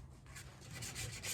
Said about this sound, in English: 8 minutes I've been sanding on this thing, it's already starting to get in line with that antler